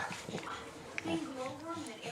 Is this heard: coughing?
no